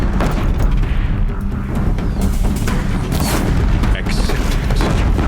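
Deathbringer guns in Horizon Zero Dawn pound out a dense, continuous barrage of booming, rumbling blasts that stay loud throughout, with no clear gaps between impacts.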